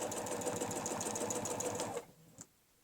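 Domestic sewing machine stitching a feathered quilting curve along a quilting ruler: a steady fast mechanical whir of stitches for about two seconds, then stopping with a faint click, close and without talk.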